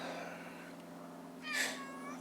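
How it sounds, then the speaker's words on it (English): A cat meows once in a yard, a brief drawn-out cry rising above a steady background hum and outdoor noise. "Got cats playing in the yard."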